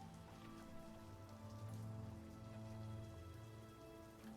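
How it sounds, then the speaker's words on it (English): Steady rain falls on surfaces in a video game, an even, dense patter that holds at a constant level from start to finish with no voices. "Maybe the rain will stop."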